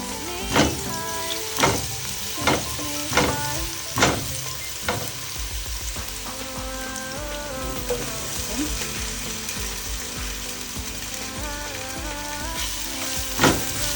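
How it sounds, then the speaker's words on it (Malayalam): Garlic sizzles and fries in hot corn oil while it is stirred, a continuous crackling hiss broken by sharp utensil taps against the pan at a roughly regular beat. "അതിനുശേഷം നമുക്ക് ഇതെല്ലാം ഇട്ട് വഴറ്റി കൊടുക്കാം. ഫസ്റ്റ് വെളുത്തുള്ളി ഇടാം."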